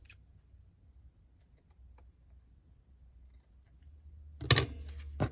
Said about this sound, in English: Just cutting a piece off.